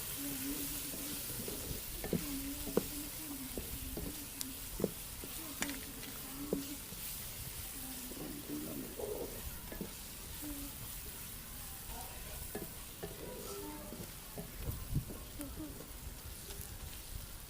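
Onions frying lightly in a pan for a potato pinwheel sandwich filling, giving a steady low sizzle throughout with occasional stirring clinks.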